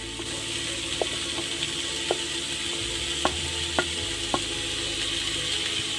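Cut potatoes tumble into a pan of frying banana flower and get stirred, a steady oil sizzle with a few sharp scraping clicks of the spatula scattered throughout.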